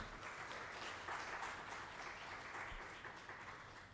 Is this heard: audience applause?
yes